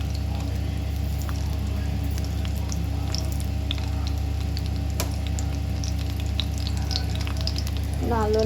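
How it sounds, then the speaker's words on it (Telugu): Dried red chillies frying in oil in a pan, a steady close sizzle with scattered crackles and pops, continuous throughout with a low hum underneath and a brief voice at the very end. "దానిలో ముందు ఎండుమిర్చి వేసి ఫ్రై చేద్దాము."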